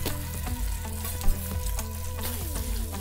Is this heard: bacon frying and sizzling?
yes